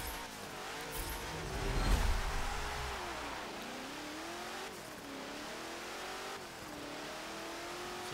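A Fate of the Furious pack car accelerates hard in Forza Motorsport 7. The engine note climbs steadily in pitch, drops at each of several gear shifts and climbs again, loud and continuous with no voices.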